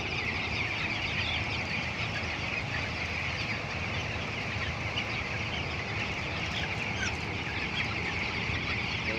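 A dense flock of young chicks on a village poultry farm in Odisha cheeps and clucks continuously, a steady, busy chorus at moderate volume with no talking.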